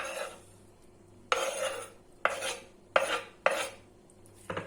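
Spoon scraping and stirring cheese and chopped parsley in a bowl, five distinct bursts of rasping, clinking strokes with quiet pauses between, close up.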